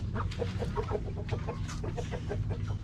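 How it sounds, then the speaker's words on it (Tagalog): Chickens clucking repeatedly in a lively, irregular series of short calls, close and fairly loud over a steady low background hum, at a backyard birthday gathering where a chicken has just been caught. "Huli ni Bogart yung manok mga kanoypi."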